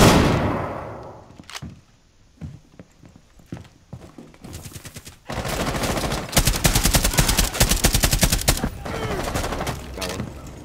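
Gunfire in Rainbow Six Siege on the House map: a few scattered, distant shots and clatters, then a sudden long stretch of dense, rapid automatic fire that stays loud and close for several seconds.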